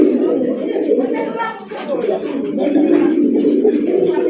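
Desi golla pigeons coo continuously at close range, a dense, throaty murmur of overlapping calls that swells and dips over several seconds.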